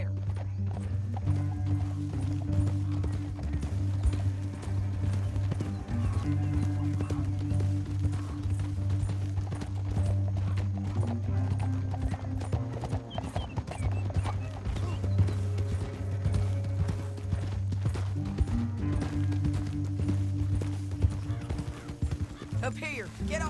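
Horses gallop with rapid clip-clop hoofbeats through a canyon in Red Dead Redemption 2. The continuous, close drumming runs under a low music bed, with occasional neighs, gear rattle and in-game voices talking over it.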